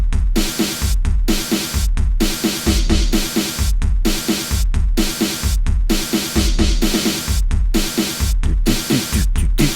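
A drum track plays alone, a driving pattern of punchy kicks and crisp snares repeating with brief regular gaps.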